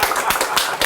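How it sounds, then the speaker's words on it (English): Hand claps in a talk about boutique guitar amplifiers, four sharp, evenly spaced claps sounding loud and close with no voice over them. "That's a clap."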